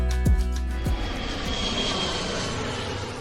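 A fixed-wing airliner lands in Taipei, with a loud, steady roar of its engines in the cabin, falling tonal whines near the start, and a broad hiss that holds for the full length, with no talking.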